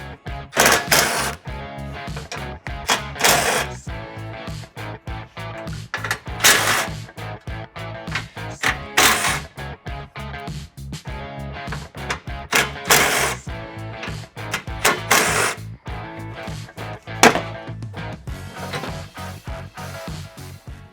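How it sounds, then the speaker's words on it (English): A ratchet wrench removes 10mm nuts from the grille support of a Toyota Tundra, with dense rapid clicking bursts repeating close up throughout and brief pauses between runs. "we have these nuts holding this grille support right here that we need to take off"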